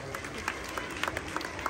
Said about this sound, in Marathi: जरा जोरात टाळ्या वाजवा